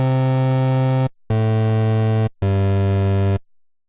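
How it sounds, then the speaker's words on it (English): A Serum synth plays a square-like wave with pulse width modulation, sounding three loud, buzzy sustained notes separated by brief gaps, the last one fading away, with no talking. "it sounds kind of like a square waveform that has a little bit of a pulse width modulation on it"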